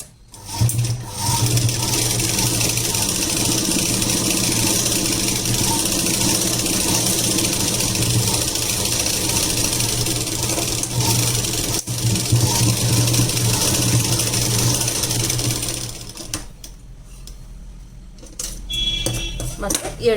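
A sewing machine stitches a long gown made from an old saree, running in a steady, continuous whir for about fifteen seconds before stopping, followed by quieter handling noise.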